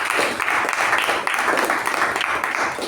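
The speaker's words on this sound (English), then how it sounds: "let's give a thunderous round of applause" A room full of people at a Toastmasters meeting gives a loud, sustained round of applause, dense steady clapping close by throughout.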